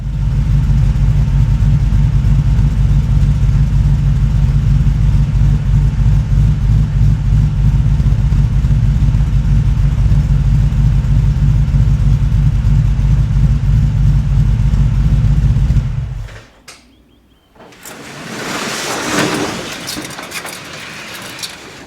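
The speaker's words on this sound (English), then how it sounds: "in this little clip, we will see what the car sounds like at base idle" A Ford Falcon BF GT with a Herrod exhaust and Herrod cams idles steadily with a deep, rumbling exhaust note for a long stretch, then cuts out abruptly before brief rustling and clinking.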